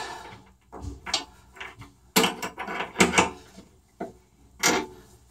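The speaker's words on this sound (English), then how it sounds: "Now get my wrench." A wrench fetched from a drawer while removing a stripped faucet seat, heard as a series of wooden knocks, sliding clunks and metallic rattles of rummaging, close and uneven in rhythm.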